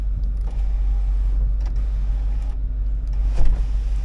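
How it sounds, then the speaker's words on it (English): Sunroof motor on a 2002 Cadillac Escalade running steadily as the glass opens, a continuous low mechanical whir with faint creaks over a constant engine hum, close up and heard alone. "Sunroof works."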